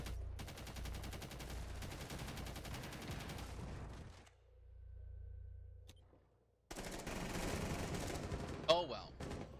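Rapid automatic gunfire in Rainbow Six Siege on Xbox One, dense bursts of shots that stop for a couple of seconds, then resume loudly with a sharp impact near the end.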